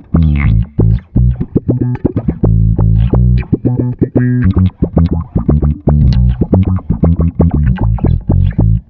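Bass guitar played through a Soundblox bass envelope filter pedal set to a positive sweep, with a fast, choppy run of loud plucked notes, each attack swelling in tone, and no talking.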